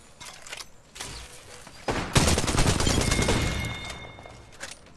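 Video game gunfire heard as a loud, sustained burst of rapid shots that builds from scattered pops into a dense volley, then tails off.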